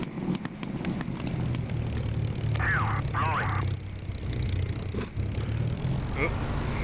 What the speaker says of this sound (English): if you increase the throttle too quickly, it kind of floods the carburetor with fuel and makes it backfire